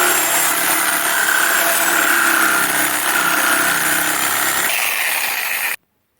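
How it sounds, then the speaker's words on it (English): A power tool whines steadily and loudly as it cuts through the plastic steering wheel of a 1972 Sears SS15 garden tractor, its pitch shifting slightly before it stops abruptly. "Opposite of the keyway, I'm going to just cut the steering wheel."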